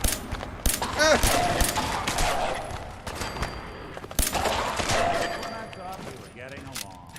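Rapid bursts of gunfire in the video game Fallout 4 while aiming at shambling enemies, sharp repeated shots in clusters with brief gaps, mixed with game effects and a voice talking over it.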